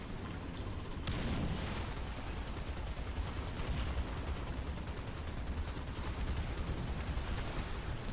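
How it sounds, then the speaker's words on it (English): In the War Thunder tank game, artillery fire strikes an American-made tank, opening with a sudden heavy blast followed by a dense, continuous roar of impacts and rumbling debris. "Oops, track taking damage from artillery."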